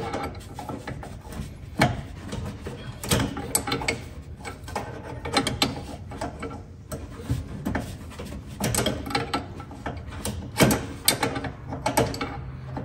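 Wrench loosening a nut on a pickup's brake line, heard as close, irregular metallic ratcheting and clicking in several bursts with no talking.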